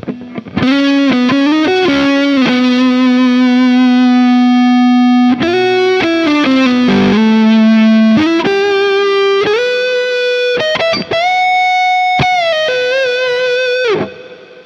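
Electric guitar lead with a tape echo, sustained distorted notes and bends repeating in soft trailing echoes, loud and continuous with no voices.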